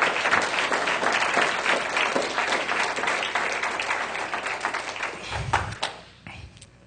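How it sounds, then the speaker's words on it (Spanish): Church congregation applauding together during a Spanish-language worship service, steady loud clapping for about five seconds that thins to a few scattered claps and thuds at the end. "Dele un gran aplauso al Señor."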